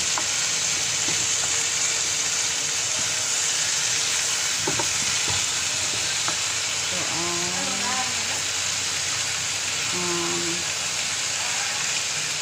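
Frozen shrimp and grass-fed herb butter fry in a pan with a loud, steady sizzle that runs throughout, broken by a few faint utensil clinks and scrapes.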